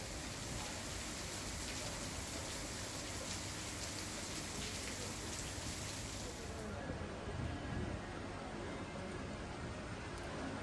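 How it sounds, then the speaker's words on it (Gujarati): Steady, dense rain hisses continuously across the whole stretch, a broad wash of noise with no pauses, fairly loud and close. "गई काल रातथी वरसाद पड़ी रह्यो छे"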